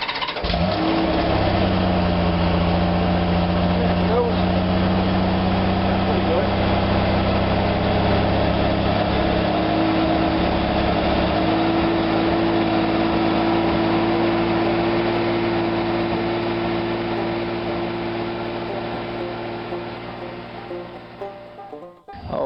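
A 16-year-old motorcycle engine runs steadily at idle after starting, a close, loud and continuous mid-pitched drone with slight pitch shifts that carries on for about twenty seconds before fading at the end.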